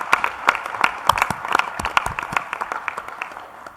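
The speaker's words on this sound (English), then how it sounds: "I was waiting for the applause." Sparse clapping in a main conference hall session: a handful of distinct, separate claps at an uneven rhythm, close and crisp, thinning out toward the end rather than building into full applause.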